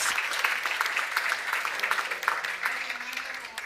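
Audience applause after a keynote speech at a conference, a steady, moderately loud patter of many hands clapping that carries on throughout and tapers slightly toward the end.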